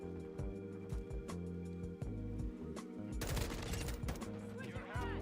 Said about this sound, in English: I've got a mortar strike.